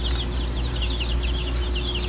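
Turkey-chicken mix birds cluck in a steady run of soft, repeated calls over a constant low hum, moderately close.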